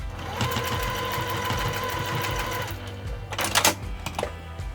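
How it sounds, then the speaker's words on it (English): Sewing machine stitching a fabric tab onto a pencil pouch, a steady close mechanical whir of rapid needle strokes, then stopping, followed by a few louder handling clacks. "sew our tab in with the seam side down on one piece here"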